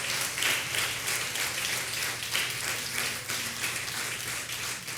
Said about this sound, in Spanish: Levante un aplauso al Señor esta mañana